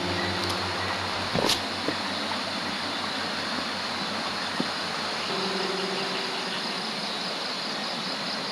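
Jeepney engines idle steadily nearby, with a low continuous rumble and a brief louder burst partway through as vehicles pass, no voices over it.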